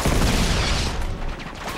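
Gunfire in the video game Uncharted 2 during an online deathmatch, a dense, loud burst of overlapping shots that dominates the first second and then thins into scattered, slightly quieter reports.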